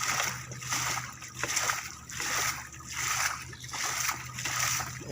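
Rainwater is bailed out of a boat on a fish pond in Gazipur, Bangladesh: rhythmic scoop-and-splash strokes come roughly once a second, close and fairly loud, in a steady repeating pattern.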